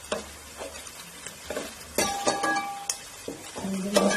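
Fish pickle mixture with vinegar frying in a pan, giving a crackling sizzle broken by spoon stirs and light clinks against the metal, close up with no talk.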